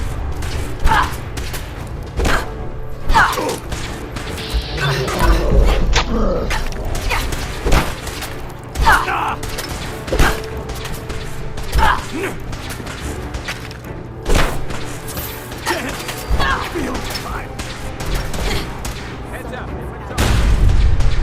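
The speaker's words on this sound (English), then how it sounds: "the one guy who brought a missile launcher to this fight managed to hit everyone except me" Missile launcher explosions boom in a Fallout 4 firefight, repeated heavy blasts and thuds mixed with gunfire and clatter, with a voice talking over much of it.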